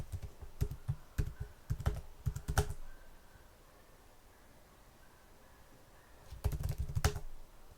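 Bursts of rapid key clicks on a computer keyboard as a root password is entered, two clusters of typing separated by a quieter pause, close and clear with no talking.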